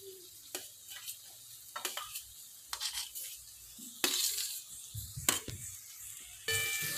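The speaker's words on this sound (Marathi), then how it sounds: "आता या वस्तू परत तेलावरती व्यवस्थित मिक्स करून घ्या मसाल्यासोबत" Roasted cluster beans are stirred into an oily masala gravy in a pan, giving a steady sizzle of frying with repeated sharp scraping strokes of a spoon, close and clear, with no talking.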